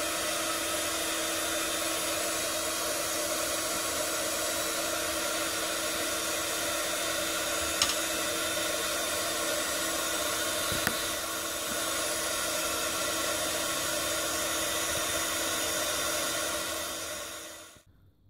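A heat gun blows steadily over embossing powder on a scrapbook project, a constant close hiss and whir that runs unbroken before switching off at the end.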